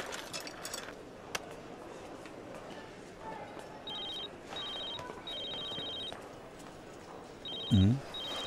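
A telephone rings in short repeated electronic bursts over a quiet room background, followed by a brief low thump.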